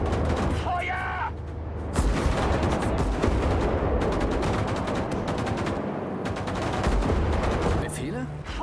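Infantry gunfire from the video game Sudden Strike 5 crackles in dense, overlapping bursts, loud and continuous, with brief shouted voices at the start and end.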